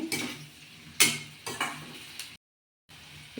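Bitter gourd pieces are stirred and fried in a pan for an onion-chilli dish in a village kitchen, with several distinct scraping stir strokes over a soft sizzle and a short silent gap.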